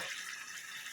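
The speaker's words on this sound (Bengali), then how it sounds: "আমি একটু গরম জলই দিচ্ছি" Hot water pours steadily into a pan of egg curry, a brief, continuous splashing rush with no speech.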